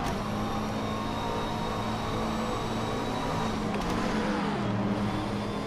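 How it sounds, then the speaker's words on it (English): A GT3 race car in the rFactor 2 racing game drives under a bridge, its steady engine drone loud and continuous, with a brief shift in tone as it passes beneath the structure. "the car's driving under the bridge. That sounded cool"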